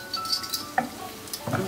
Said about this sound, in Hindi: अब इसके अंदर मैं हल्का सा थोड़ा सा और मेपल सिर्फ ड्रिजल कर रही हूँ